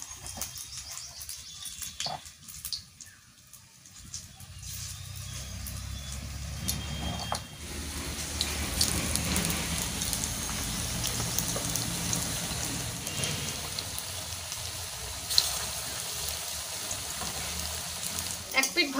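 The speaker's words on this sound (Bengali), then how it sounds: "কম তেলেই কিন্তু আমি চপগুলো ভাজবো।" Onion chop patties shallow-frying in a little oil, with a soft crackling sizzle that builds after the first few seconds and holds steady, with faint sounds and brief voices in the background.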